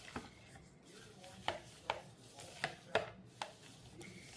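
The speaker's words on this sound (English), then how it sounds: "So I'm gonna stir the butter in real well." Butter is stirred into an egg mixture in a bowl. Quiet, regular utensil taps and knocks against the bowl sound at a steady rhythm over a faint background, with no talk.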